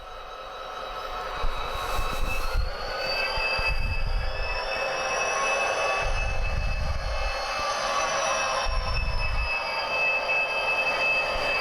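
A model locomotive fitted with a Tsunami2 sound decoder runs in reverse at notch 1, giving a steady engine drone with whining high tones and rhythmic low rumbles, loud and continuous with no talking.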